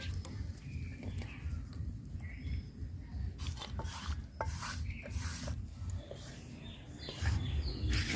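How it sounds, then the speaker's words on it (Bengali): A spatula scrapes a wok clean after frying parshe fish, producing steady rasping and rubbing strokes up close with a low rumbling background, no speech. "এই খোলা দিয়ে কেকে নিলে কত সুন্দর একদম কড়াইটা পরিষ্কার হয়ে আসে"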